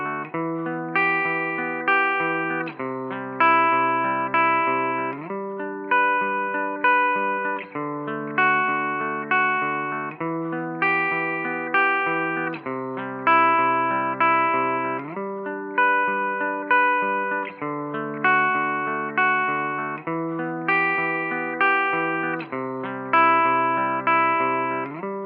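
An electric guitar runs through a Line 6 Helix Jazz Rivet 120 amp model, playing steady repeated clean chords and arpeggiated phrases in a regular rhythm, alone and close.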